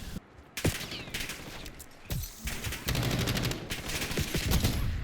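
Bursts of automatic gunfire in the Call of Duty shooter Black Ops 7, loud and close, with rapid rattling volleys, sharp single cracks and short pauses between strings of fire.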